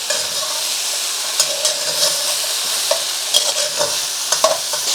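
Peppers and broccoli stir-fry in a hot pan, giving a loud continuous hiss and sizzle with quick scraping stirs and spatula clicks, close up and without speech.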